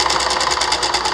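An old-school sewing machine stitching welt for a rocking chair upholstery job runs in a steady, rapid chatter of needle strokes, loud and close with no talking.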